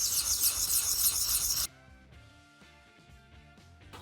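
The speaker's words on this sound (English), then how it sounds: "I can keep the knife on my leg like this and then basically just use it as a file." A knife blade is drawn across a Lansky sharpening stone held on the leg, a rough rasping scrape for under two seconds followed by quieter faint handling noises.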